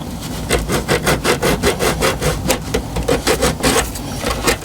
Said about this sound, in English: So take the burr off the end as well. Little needle file does the job.